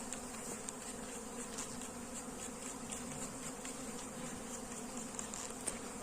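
Bees hum around a drone-laying hive, filling the air with a dense, continuous buzz at moderate distance. The swarm's steady drone has faint individual wingbeats passing through it and no voices.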